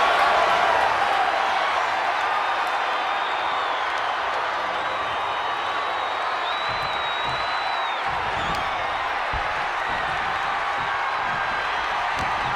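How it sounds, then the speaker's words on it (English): A wrestling arena crowd at a Monday Night Raw show roars loudly and continuously, a dense, steady wash of cheering and noise that holds for the whole stretch without breaks. "where you can't hear yourself think because the crowd's so loud"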